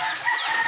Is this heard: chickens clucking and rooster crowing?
yes